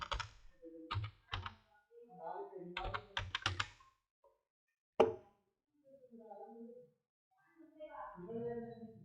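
Brisk clattering keystrokes on a computer keyboard in short rapid bursts, interleaved with someone speaking Hindi close by, with one sharp louder tap partway through.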